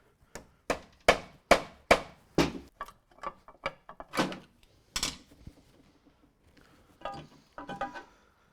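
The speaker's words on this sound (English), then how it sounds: "Just give the casing a light tap." Sharp knocks on the metal timing chain casing of a Toyota Celica during engine work, a quick series of close, bright taps slowing into irregular strikes with short gaps between them.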